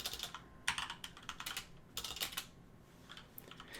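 Fingers type on a computer keyboard with a microphone mounted just beneath it, quick clustered clicks in short bursts, close and crisp with no talking.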